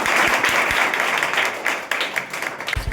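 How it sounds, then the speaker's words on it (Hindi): Students in a room clap during an MLC's school inspection in Jehanabad, making a steady, fairly loud patter of many hands that thins slightly toward the end, with a few sharper claps standing out. "चलिए एक बार ताली बजाइए सब लोग।"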